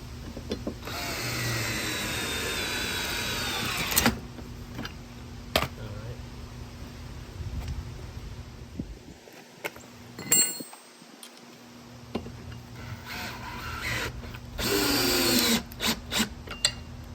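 A power drill drives screws through a bracket into a wooden fence post, whining in two long bursts near the start and end with sharp clicks and knocks between, close and loud.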